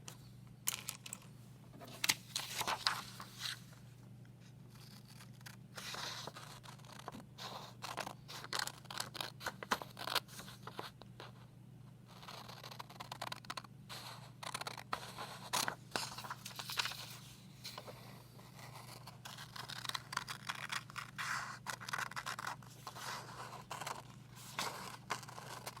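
Scissors snip through paper to cut out a cone shape, producing quiet, irregular crisp cuts and scrapes close by with small pauses between them, and no talking.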